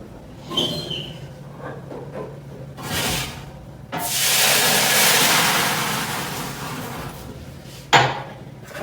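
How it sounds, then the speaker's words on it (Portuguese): A glass of water is thrown into a preheated baking tray at the bottom of an oven while French bread is baked, releasing a loud sustained hiss of steam for several seconds between clattering knocks of metal. "a gente vai pegar um copo de água e vai jogar ele numa assadeira no fundo do forno, que também já está aquecida."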